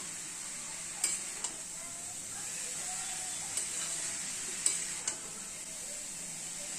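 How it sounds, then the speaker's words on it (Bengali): Food with turmeric is stirred in a pan over a steady, faint sizzle, with a few light scrapes and taps from the utensil and no talking. "এটা আমি নেড়ে নেব"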